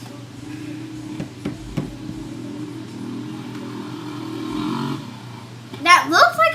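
A four-stroke ATV four-wheeler engine runs with a steady low drone and a few knocking thumps, swelling briefly before a voice takes over at the end.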